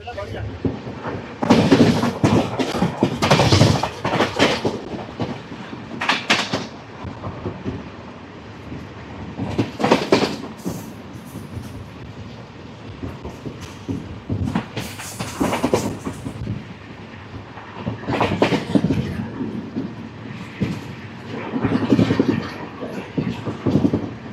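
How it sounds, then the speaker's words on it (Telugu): An Indian Duronto express running at about 110 km/h on the Bikaner to Sealdah route, heard from inside the coach: a steady rumble with recurring surges of rattling wheel noise, and people talking at times. "ట్రైన్ స్పీడ్ వచ్చేసరికి ప్రెసెంట్ 109, 110 అలా మెయింటైన్ చేస్తున్నారు"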